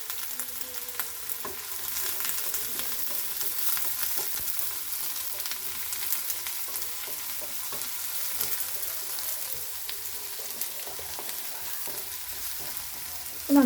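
Curry leaves and onions fry in a pan for a fish curry, a steady low sizzle running throughout with light stirring scrapes and a brief louder clink at the very end.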